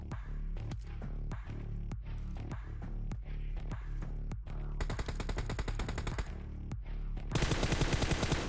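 Gunfire in the mobile battle-royale game PUBG Mobile: loud, rapid shots come in repeated bursts, growing into dense, continuous automatic fire toward the end.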